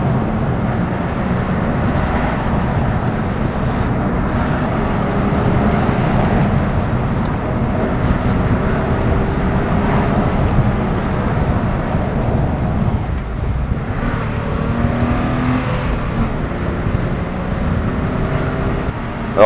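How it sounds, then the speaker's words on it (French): A BMW with worn-out shock absorbers accelerates while driven sportily, its engine a steady loud drone with road and wind noise throughout, no talk over it. "On va rouler un peu de manière sportive pour voir ce que ça donne."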